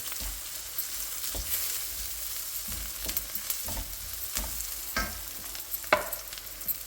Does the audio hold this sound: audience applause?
no